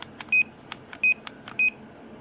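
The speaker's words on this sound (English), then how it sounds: "I did put the little Roger beep in there, as we can hear." Three short, high electronic roger beeps from a CB radio sound at even intervals over faint background clicks and static.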